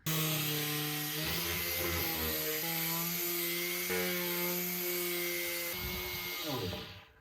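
A power sander works over wood for a bath build, giving a loud, continuous motor drone whose pitch shifts as pressure changes, then it winds down and cuts off at the end.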